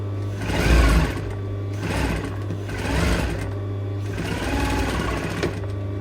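A sewing machine stitches a baby doll dress in close, steady bursts of rapid whirring, pausing briefly between runs, with a constant low electrical hum behind it.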